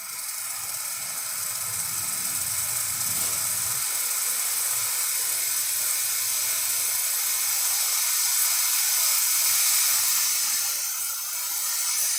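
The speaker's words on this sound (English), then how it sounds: "And the steamer, it takes a bit until it gets hot." Breville Barista espresso machine steam wand hissing steadily after a service and tune-up, a continuous loud rushing hiss that holds for the whole stretch with a faint low rumble near the start, heard up close with no talk.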